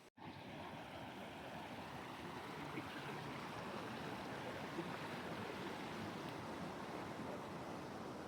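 Steady rushing water roars continuously, a waterfall in Glacier National Park pouring into a clear, deep flowing stream, full and close with no voices.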